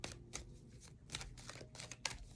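Playing cards shuffled by hand in a quiet indoor setting, a series of quick riffling bursts and flicks close to the microphone, with no talking.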